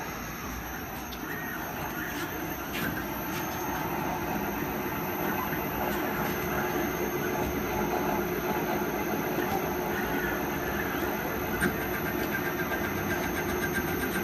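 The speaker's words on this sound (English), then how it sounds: "This particular test is at 500 RPM. We're gonna move the machine from the bar stock just 1/2 inch, and we're gonna click on cycle start." A defective Shopmaster machine cuts bar stock at 500 RPM, giving a steady mechanical drone with faint intermittent ticks at moderate level throughout.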